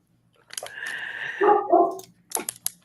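A dog yips and whines briefly nearby, a few short sharp barks and a higher drawn-out whimper, loud and close with little else around it.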